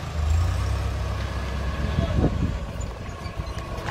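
A heavy truck being shifted during container loading, its low engine rumble steady and close with a brief louder clunk midway, under faint background voices.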